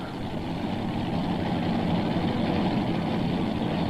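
The 500 cubic inch Chevrolet engine of a modified pulling tractor idles with a constant low, throaty rumble that holds steady and fairly loud the whole time, at a 1995 tractor pull in Imlay City, Michigan.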